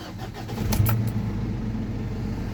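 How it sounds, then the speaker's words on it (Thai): A Ford Duratorq diesel car engine cranks briefly and catches, then settles into a steady, close idle rumble. "เรามาลองสตาร์ทดูกันครับ"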